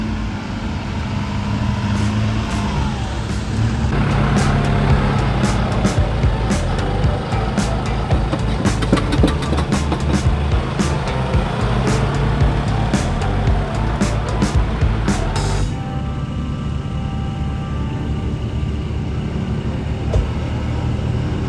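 A solid-axle Toyota Prado grinds along an off-road canyon track, its engine a steady loud drone with scattered clunks and scrapes from the rough ground throughout.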